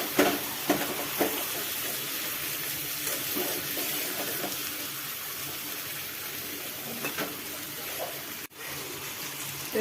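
Small potatoes fry in a pan, a steady hiss with occasional stirring scrapes and a brief drop near the end, moderately loud and with no talking.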